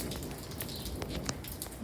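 Quiet rain patters on surfaces, with occasional faint bird chirps and tweets scattered over the soft, steady hiss.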